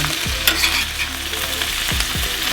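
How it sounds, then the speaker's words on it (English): Vegetables sizzle and crackle steadily in a hot pan, with a few scraping stirs of a utensil, close by and without any voices. "y'all hear those veggies sizzling? They sizzling."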